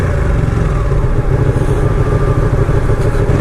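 A 2018 Ducati Panigale 959 Corse being ridden, its engine giving a steady, close, continuous drone with no talk over it.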